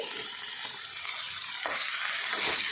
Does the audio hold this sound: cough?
no